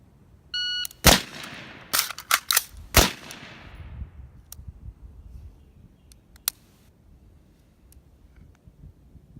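A PWS MK1 SBR rifle fires after a shot timer's brief electronic beep: about six sharp, loud, close cracks come in quick uneven succession, followed by quieter clicks and metallic handling noises, with no speech.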